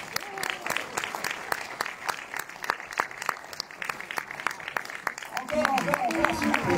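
An audience applauds a local music association with sharp, close hand claps that start sparse and rhythmic, then swell into fuller, louder clapping near the end.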